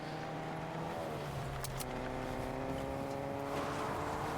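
Car engine in a video game tournament match, a steady droning rev with shifting pitch running continuously throughout, loud and close, with no talking over it.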